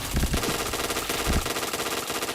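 Rapid bursts of automatic gunfire in a shooting video game, dense and loud, with heavy low thumps from shots or explosions scattered through the clip.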